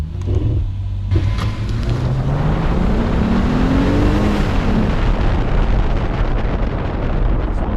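A Lexus luxury car accelerates hard from a standstill launch, its engine note rising in pitch through the gear, loud and close with heavy wind and road roar.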